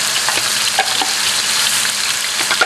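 Oil sizzling loudly and steadily in a hot wok, a dense close frying hiss with faint scraping ticks throughout.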